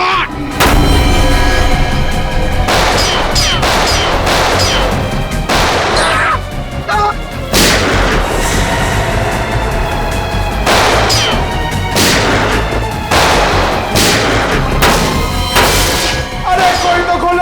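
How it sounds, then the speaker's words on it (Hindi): Loud bursts of gunfire from a crime drama crack out repeatedly in rapid, uneven volleys, close and harsh, with brief gaps between shots. "मुझे भी गोली चलानी है"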